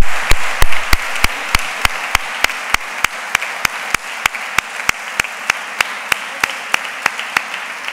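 A single pair of hands claps steadily and evenly, close and crisp, about three claps a second, greeting Pepe Oliva at a fair proclamation speech in Sanlúcar.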